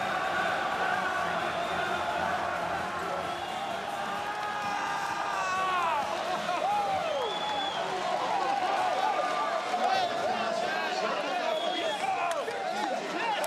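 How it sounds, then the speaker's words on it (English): A loud arena crowd roars and cheers continuously at a France v Poland men's volleyball match in the 2016 World Olympic Qualification Tournament, with whoops and shouts rising over a dense, steady wall of noise. "playing loud and proud, and listen to this crowd"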